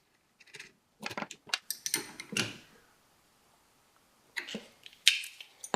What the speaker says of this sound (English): Put the little washer on the top, then the nut.